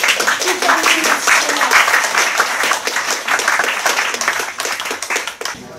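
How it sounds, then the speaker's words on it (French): An audience at an amateur stage show applauds a performer, dense crowd clapping holding steady for several seconds before tapering off, with some voices mixed in. "On applaudit Fabienne pour son jeu."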